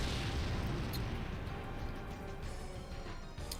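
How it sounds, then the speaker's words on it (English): A cannon fires in the Legend of Dragoon video game, a dense continuous blast and rumble with crackling bursts, loud and steady throughout. "Here comes the cannon."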